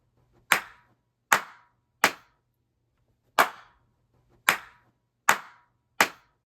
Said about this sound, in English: listen to the fourth and final clap